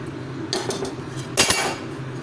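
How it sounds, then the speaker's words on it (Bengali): Paneer pieces are dropped into a pan of capsicum and spices. Two short bursts of clatter and scraping ring out close by, the second louder, over a faint low background. No one speaks. "এবারে আমি পনিরের টুকরোগুলোকে এর মধ্যে অ্যাড করে দেব।"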